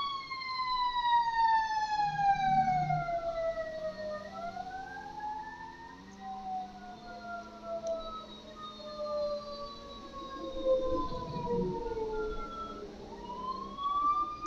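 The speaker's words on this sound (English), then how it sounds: "Why is there always sirens when I'm trying to record?" Three fire trucks pass with their sirens wailing, the rising and falling tones sweeping loudly and continuously with a steady low rumble of traffic underneath.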